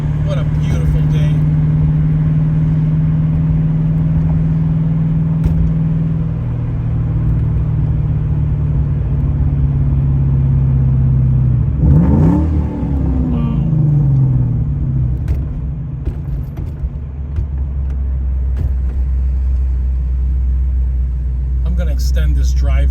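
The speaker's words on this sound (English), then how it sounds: "drive a 92 notchback with a 32 valve Cobra engine in it" A 1992 Ford Mustang notchback with a 32-valve Cobra engine swap drives along with a steady low engine drone and rumble, one brief rev change midway, while someone talks inside the car.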